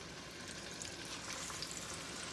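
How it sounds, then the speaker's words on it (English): Soft, steady sizzling of chicken breasts frying in a pan, a quiet crackling hiss that continues evenly without talk. "It's got a good little sizzle."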